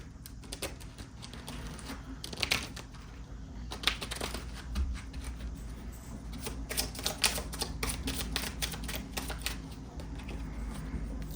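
Tarot cards shuffled by hand in a quiet room, a run of crisp riffling clicks and flutters in irregular bursts, close and fairly loud, with a steady low hum underneath.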